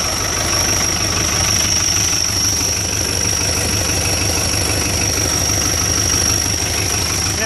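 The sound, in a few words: Fiat 780 80 horsepower tractor engine idling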